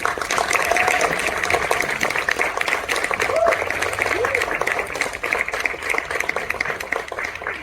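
An audience claps at the premiere of the Gujarati film Mangu, a dense, sustained wash of applause with a voice speaking over it.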